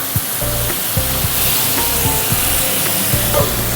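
Spice paste dropped into a hot pan with hilsa fish brings loud, continuous, close frying sizzle and spatter, broken by a few soft knocks of a utensil.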